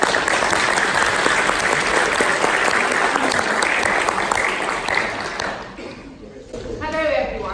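Dense, loud audience applause at a university event fills the room for several seconds before fading away, and a voice begins to speak as the clapping dies down.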